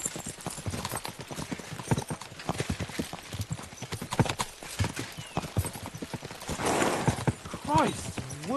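Galloping horse hooves clatter in rapid rhythm under excited voices and shouting, with a horse whinny rising near the end, in the video game Kingdom Come: Deliverance II.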